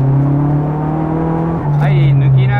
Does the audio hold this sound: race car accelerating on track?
yes